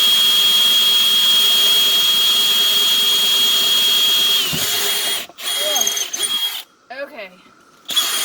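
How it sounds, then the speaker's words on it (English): A power drill with a dull bit bores a hole in a wooden table top, giving a loud steady high whine for several seconds before it stops. Someone then speaks over faint workshop noise. "my drill is wiggling"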